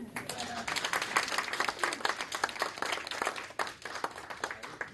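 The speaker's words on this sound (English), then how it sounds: "A wonderful round of applause" Applause from an audience, a steady burst of many hands clapping that fills the space and tapers slightly at the end.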